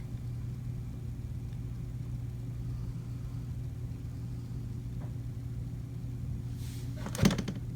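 Hand-spun paint spinner turning a flip cup fluid art piece, giving a faint steady low whir that ends in a brief clunk.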